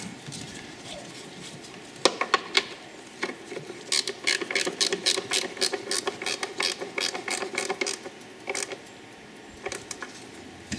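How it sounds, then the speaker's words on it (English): A ratchet wrench clicks in quick rapid bursts while tightening two nuts at the rear of the 3.6 V6 engine in a Dodge Grand Caravan, close and fairly crisp, starting with a few scattered clicks before steady runs of pawl ticking. "So now we can tighten up the 2 nuts on the rear here."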